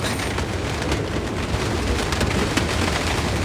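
Steady rain falls in a dense, continuous hiss with a faint low rumble underneath, constant and fairly loud throughout.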